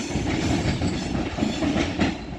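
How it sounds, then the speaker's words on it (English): A train pulls away from Stockport station on the West Coast Main Line, close and loud, with a low rumbling drone and irregular clickety-clack of wheels over joints. "And now departing is the train to Stepford."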